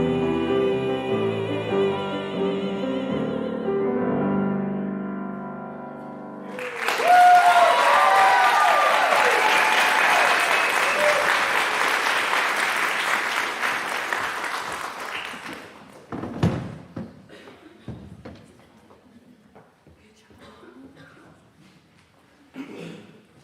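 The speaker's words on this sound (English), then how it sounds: "Thank you for clapping." Audience at a musical theatre studio recital breaks into a sustained burst of clapping that swells and then fades out, following a stretch of sung music. Scattered bumps and shuffles trail off at the end.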